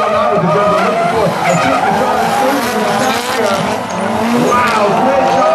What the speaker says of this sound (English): Mervin, let's see where Initiate locks up that rear wheel now with the jump we're looking for.